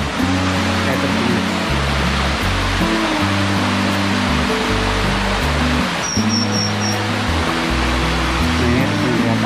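Jungle waterfall in Indonesia roaring continuously up close, a dense loud wash of falling water with no breaks, faint voices and a brief high tone buried in the noise.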